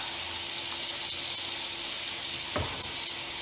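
Very hot water rushing steadily through the parts of a Surge bucket milker during a rinse, a continuous hissing, sizzling flow with a brief louder splash near the end.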